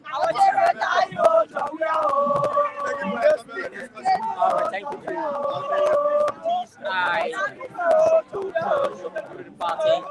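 Unity party supporters at a Liberian rally chanting and singing in rhythmic, melodic phrases, a close and lively group of voices with short pauses between lines.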